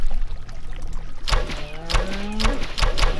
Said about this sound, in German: So, jetzt kommen die Eier reingeklatscht.